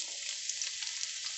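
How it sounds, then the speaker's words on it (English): Onions frying in hot oil in a Kirkton House wok on a gas stove, a steady hissing sizzle, faint and even throughout with small crackling pops. "as we see the efficacy of this Kirkton House wok on a gas stove to do onions."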